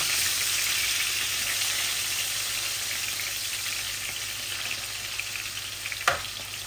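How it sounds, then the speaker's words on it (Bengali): Rohu fish pieces lightly frying in a pan give a steady, close sizzle and hiss of oil throughout, with a brief sharp clink near the end. "মাছটা আমি একটু ভাজবো, হালকা ভাজবো। এত কড়া করে ভাজবো না।"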